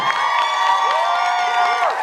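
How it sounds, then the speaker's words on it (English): Audience at the NZ Pole Industry Awards 2018 cheering and whooping, a dense crowd roar with high whistles and whoops sustained throughout. "make one last massive round of applause and some whoop whoops for the NZPIA 2018"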